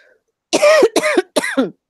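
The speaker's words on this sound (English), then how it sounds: "Oh, I'm going to cough." A person coughing three times in a quick, close, loud burst, each cough harsh and ending in a throaty catch.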